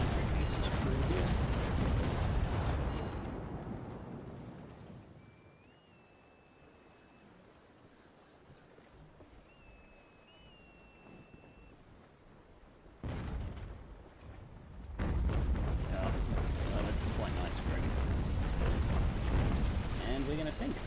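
Cannon fire in a naval battle game between the sailing warships Santisima, Constitution and two Trincomalee frigates: heavy rumbling broadsides at the start, a quieter stretch with someone talking, then renewed booming volleys.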